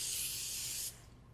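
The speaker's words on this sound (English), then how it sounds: "And we just use some no stick cooking spray." No-stick cooking spray hisses onto a baking pan in one continuous, close burst lasting just under a second, then cuts off to quiet room tone.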